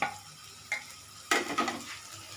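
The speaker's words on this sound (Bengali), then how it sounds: "আগে আমি একটু নেড়ে নিই তারপর আমি নুন দেব" Chopped onion and garlic frying in a pan and being stirred, with a few distinct scraping strokes of a utensil over a soft sizzle.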